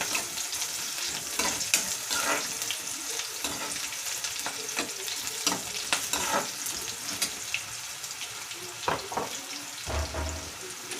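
Cumin and mustard seeds sizzle and crackle in hot oil for dosa potato filling, a continuous close frying hiss punctuated by sharp popping ticks throughout.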